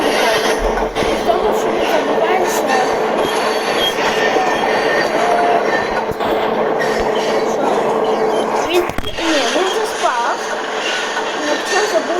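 Train running on railway tracks, a continuous loud rumble with clattering wheel noise and a few sharper metallic knocks, dense and close throughout.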